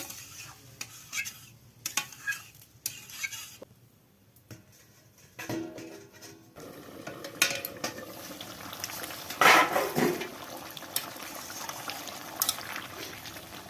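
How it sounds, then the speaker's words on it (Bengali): A lid comes off a pot of boiling cauliflower amid metallic clatter and stirring scrapes, with a louder clank near the end over a bubbling, simmering background. "ঢাকনা খুললাম, ফুলকপি সেদ্ধ হয়ে গেছে।"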